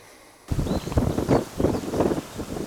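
Gusty wind buffets the microphone in uneven rumbling bursts after a brief quiet start.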